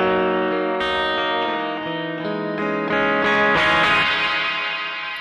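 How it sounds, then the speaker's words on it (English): Electric guitar chords played through a bright, trebly reverb on a TC Electronic Plethora X3 pedal, loud and sustained with a shimmering tail, several strummed changes, no talking. "A much brighter, kind of more trebly reverb"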